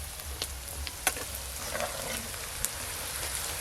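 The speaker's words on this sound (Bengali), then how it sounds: "এবার জিরে বাটা দিয়ে দেব" Cumin paste frying with onions and green chillies over an earthen clay stove, a soft, steady sizzle with occasional sharp pops and crackles, fairly quiet, no talking.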